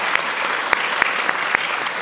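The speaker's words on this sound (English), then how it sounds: "Hold for applause." Applause from an audience at an International Women's Day panel event, a dense steady patter of clapping with a few sharper nearby claps standing out, continuing throughout.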